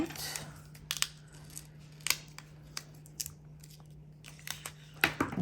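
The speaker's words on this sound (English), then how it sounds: "I'm just going to grab my scissors and cut this because that is easier." Scissors snip through paper while making a planner spread, a series of sharp, close clicks and crisp cuts at an uneven pace, with a faint steady hum underneath.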